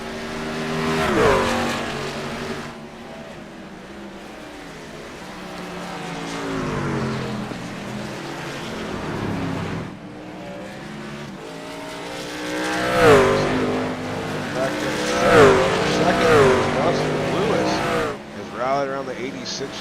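Race trucks in a NASCAR-style series lap Watkins Glen, engines droning loud and continuous with rising and falling pitch sweeps as they pass and shift, under steady commentary.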